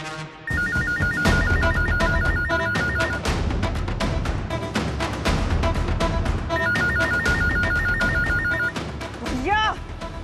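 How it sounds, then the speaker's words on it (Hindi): A telephone rings with a repeating electronic trill in two bursts. It plays over a busy soundtrack of dramatic music and effects from a Hindi television drama, with talk around it. "फोन उठाओ।"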